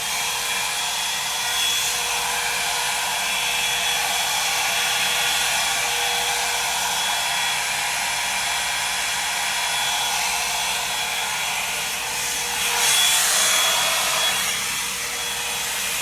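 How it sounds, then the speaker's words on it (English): A Revlon Salon One-Step hair dryer and volumizer blows steadily and loudly at close range, a constant airy roar with slight surges in intensity toward the end. "I'm gonna grab the dryer."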